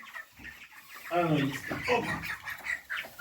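Broiler chicks in a small homestead shed give soft, overlapping peeps and chirps, fairly close and continuous, with someone speaking over them.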